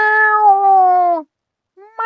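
A human voice imitates a cat meowing: one long, loud meow with a falling pitch, a short silence, then the start of a second meow.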